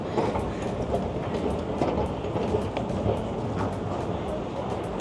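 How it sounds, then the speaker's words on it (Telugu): A London train arrives at the station, rumbling steadily nearby with a continuous rolling roar and faint rhythmic clatter of wheels on rails. "చిన్న ఎగ్జాక్ట్ టైంకి ట్రైన్ వచ్చింది."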